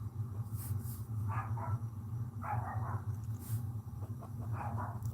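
A dog barks in short bursts several times across a few seconds, the barks moderately distant over a steady low hum in an indoor room.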